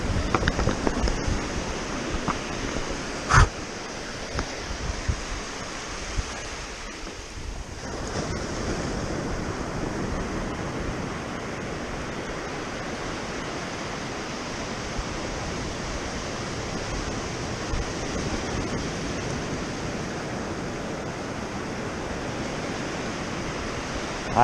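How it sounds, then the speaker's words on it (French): Sea waves wash around a fishing kayak at sea, a steady broadband surf roar with wind noise on the microphone, continuous and fairly loud for the whole stretch, with one sharp knock early on. "Allez, série de vagues."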